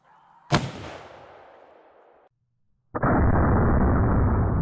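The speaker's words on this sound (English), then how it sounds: "Now we are going to shoot the 250 grain Barnes low" A single loud gunshot from a big bore lever-action rifle, 45-90 or 50-110 WCF, firing a 250 grain Barnes bullet, a sharp blast with a decaying echo, then a second loud burst of sound after a brief silence.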